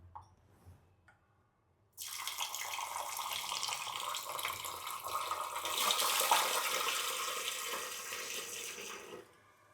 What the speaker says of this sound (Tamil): இப்போது ஒரு அரிசியை நார்மல் டேப் வாட்டரில் கழுவலாம்.